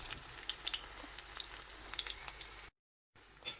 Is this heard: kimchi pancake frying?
yes